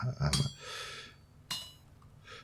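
Metallic blacksmithing hammer strikes in a video game, three sharp clanks spaced apart, each followed by a bright ringing hiss, with breathy noise in between.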